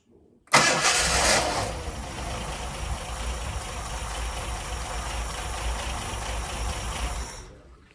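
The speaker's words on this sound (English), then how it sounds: "It's actually starting on its own accord on the button now. So let me just turn the key again quick." A Ford Mk1 Granada 3.0 V6 Ghia cranks briefly on the key and catches, then settles into a steady, close idle that runs for several seconds before cutting off.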